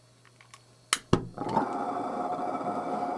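A gas burner on a small live steam locomotive ignites with two sharp pops, then settles into a steady, fairly loud roaring hiss that runs to the end.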